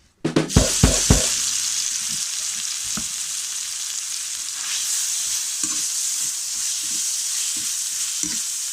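Frog pieces hit hot oil in a wok with a loud burst of sizzling that continues as a steady hiss, broken by a few clanks of a utensil stirring a herb stir-fry.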